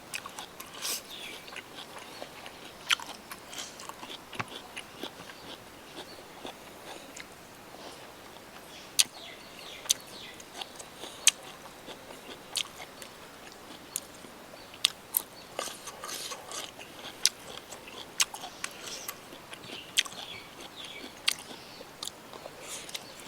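Someone chews squid, giving scattered crunchy bites and wet mouth clicks at close range over a steady low background, with no talking.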